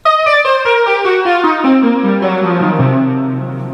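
Bright, buzzy Polymoog synthesizer notes step downward in a quick run, then with the sustain pedal the final tones hold and ring out with a gentle sustain, fading slowly.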